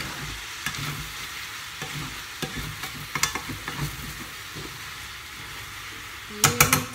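Chicken frying in a pan for an Italian-style dish, stirred with steady sizzling and scraping clatter, a louder burst of clanking near the end.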